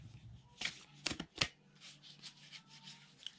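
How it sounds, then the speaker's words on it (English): Moon oracle cards being shuffled by hand, a few sharp riffling bursts followed by softer repeated shuffling swishes, close and fairly quiet. "Let's just cleanse them, and I will now start shuffling."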